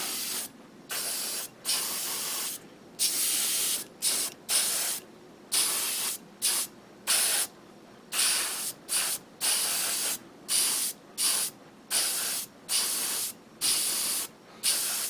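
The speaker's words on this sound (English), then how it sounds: "cover up the parts that I just painted and then re-spray paint the brown over it" A rattle can sprays brown paint onto a Gundam diorama model in repeated short hissing bursts of about half a second to a second each, separated by brief pauses, close and steady with no voices.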